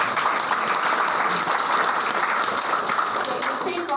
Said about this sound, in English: One more hand for you guys.